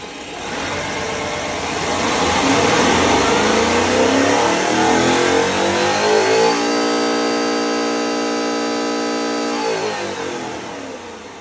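A stock-bottom-end Gen V LT V8 on an engine dyno revs loudly up to high RPM, climbing to a steady screaming hold with a clear, even harmonic drone before easing back down.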